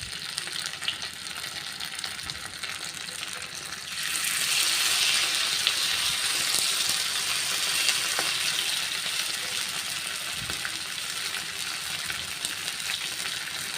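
Masala-coated rock fish pieces frying in hot oil, a steady close sizzle that swells louder and brighter a few seconds in as more pieces go into the pan, then holds a dense crackling hiss with no talking.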